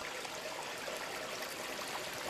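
Hot spring water flows steadily in Yunomine, an ancient thermal town in Japan, as a continuous close rushing trickle with no other sounds.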